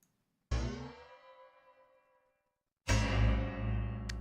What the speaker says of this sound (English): It's basically a cymbal dipped in water that I hit and kind of moved around in the water